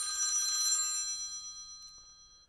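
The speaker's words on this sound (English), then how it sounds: "No phone calls, please." A telephone bell ringing, one bright trilling ring that sounds loud at first and then decays, followed by near silence.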